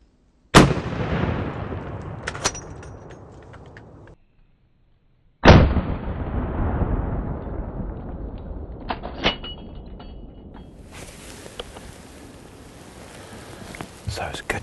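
Two loud rifle shots crack out during a mouflon ram hunt in the Czech Republic, each followed by a long echoing rumble across open ground, with soft rustling and faint handling noises between them.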